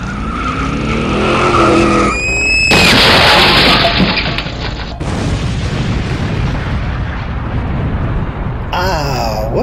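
Miniature Corvega cars skid with squealing tires and crash with a loud boom, a wheel coming loose amid the wreck in a Fallout 76 stunt show; engine noise and impacts run continuously and loud throughout.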